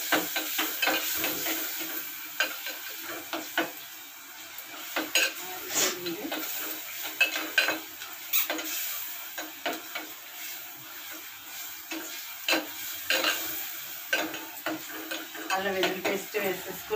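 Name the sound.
ginger garlic paste frying in a pan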